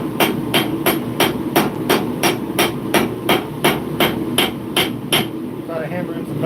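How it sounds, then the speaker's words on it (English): Sharp, ringing metal hammer strikes on a small knife blade being made, repeating at a steady, quick rhythm, about a dozen blows close up, then stop. "Try to hammer in some pebbles now."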